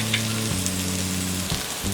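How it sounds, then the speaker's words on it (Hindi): Mixed vegetables frying in a pan over a low flame for foxtail millet upma, a steady gentle sizzle close by with a low humming tone underneath and no talk. "हमने 5 मिनट तक लो फ्लेम में सारे वेजेस को फ्राई कर लिया है।"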